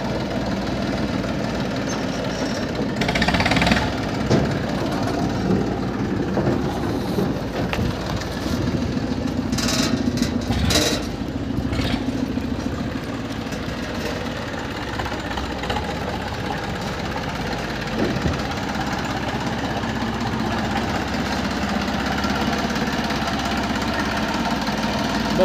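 A tractor engine idles steadily at a mechanic's shop, a loud, close, rough low rumble with a knocking pulse and a few metallic clanks over it, and no voices.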